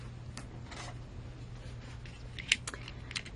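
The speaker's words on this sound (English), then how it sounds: "I've got some Teflon coated scissors so they don't get all sticky." Teflon-coated scissors snip through adhesive pop dots in a few light, quick cuts over a steady low background hum, with one sharper snip standing out.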